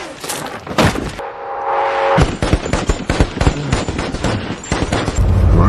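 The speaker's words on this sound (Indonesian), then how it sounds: "Chris memperkirakan Mustafa menembak dari jarak 1 kilo lebih" Sniper rifle shots in an urban war scene from the film American Sniper sound as sharp, loud cracks and bursts over a rumbling, busy combat soundtrack, with a short tonal pause between.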